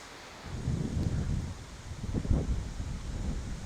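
Gusty wind blows across an open disc golf course, a low steady rumble that swells and buffets the microphone in waves for several seconds, with no voices heard.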